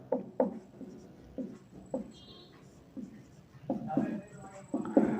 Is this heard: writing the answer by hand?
yes